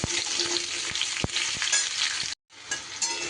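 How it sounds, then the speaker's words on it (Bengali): Cut pumpkin pieces stir-frying in oil over a high flame, a loud steady sizzle broken by the scrape and clack of a spatula being stirred through the pan, with a brief dropout near the end. "প্রায় মিনিট 2 ধরে হাই ফ্লেমে আমি কিন্তু কুমড়োটাকে এইভাবে নাড়াচাড়া করে ভেজে নিয়েছি"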